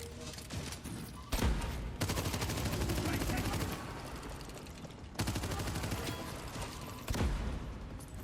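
Rapid bursts of gunfire from the shooter video game Abyssus, dense and loud, with several sharp blasts and fusillades layered over continuous game sound effects.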